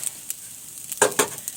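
A spoon scrapes and taps briefly in a pan of fried semolina mixed with fried egg, with a light sizzle and a few sharp clinks close by.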